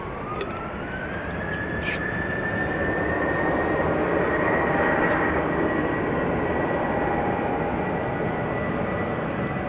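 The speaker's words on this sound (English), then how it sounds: "This is Transavia flight 5421 on its way to Pisa in Italy. 737-800, the PH-HBL" A 14-year-old Transavia Boeing 737-800 departing Amsterdam Schiphol, with a loud, close, continuous jet engine roar and a rising whine that levels off and holds steady throughout.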